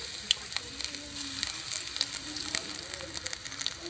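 Whole cumin and grated garlic frying in oil in a pan for egg fried rice: a steady, soft crackling sizzle with scattered pops throughout, close but fairly quiet.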